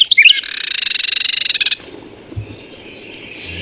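A recorded bird song is played back as a fast, rapidly pulsing high trill lasting over a second, preceded by sharp chirps and followed by fainter calls against a quiet background.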